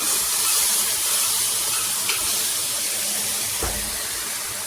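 Boiled meat hits hot masala and oil in a pan, setting off a steady, bright sizzling hiss that holds evenly for several seconds with no talking.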